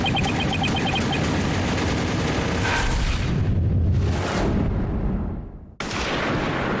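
Gunfire and booming explosions in the Ace Attorney: Dual Destinies video game ring out loudly over a dense game soundtrack, then cut off abruptly near the end before the sound resumes.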